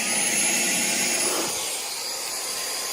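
A SEALIGHT 13000Pa handheld wireless car vacuum whirs at close range, a steady high-pitched motor whine that eases slightly in loudness partway through, with no talking.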